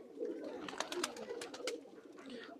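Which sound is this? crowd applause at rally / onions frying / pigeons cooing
pigeons cooing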